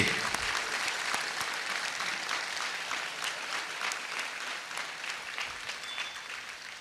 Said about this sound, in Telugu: అందరూ ఒకసారి గట్టిగా చప్పట్లు కొడదాం తంబి బ్రదర్ గారికి.